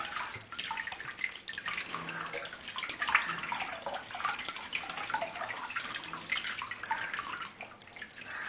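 Water from a tap splashes steadily over a cleaned crab being rinsed, a continuous close hiss and patter of running water with small drips and no talking.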